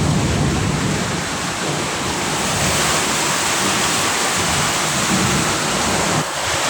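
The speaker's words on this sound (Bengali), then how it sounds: "তো এখানে অনেক বেশি বৃষ্টি হতেছে" Heavy rain pours down steadily in a thunderstorm, a loud, dense, continuous roar of falling water close by with no pauses and no voices.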